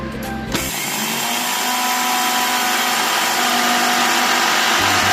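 A kitchen mixer grinder whirs loudly and steadily, grinding white and black mustard seeds, poppy seeds, green chillies and a little salt into a fine paste. The motor starts abruptly and then holds a constant high-pitched roar up close, with no voices.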